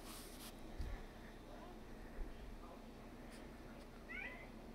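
Domestic cats meow softly in a quiet room, a few short mews spaced across the moment, with a higher chirpy call near the end over low background noise.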